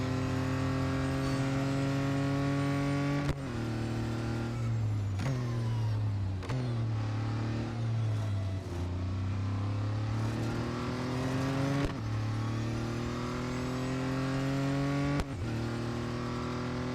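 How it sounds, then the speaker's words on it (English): An Audi Quattro B2 race car in the Real Racing 3 game climbs a hill, its engine droning steadily and loudly with several sharp gear shifts breaking the tone, no talk over it. "This car struggles to get up this hill, but it just about manages it."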